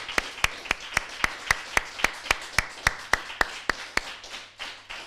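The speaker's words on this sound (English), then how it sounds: "I think that deserves a round of applause." Claps ring out in a slow, steady rhythm at a British Empire Medal ceremony, about seventeen sharp hand claps fading slightly toward the end, sounding like a small group or single person rather than a full crowd.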